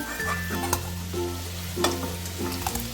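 Balls of chhana (fresh paneer) fry in hot oil with a continuous bubbling sizzle, punctuated by a few sharp clicks and clatters from a utensil against the pan.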